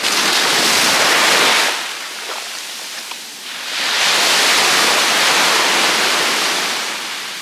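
Sea waves washing onto the shore at a warm beach resort in Antalya, a loud steady broadband surf that dips briefly as one wave recedes, then swells again as the next rolls in.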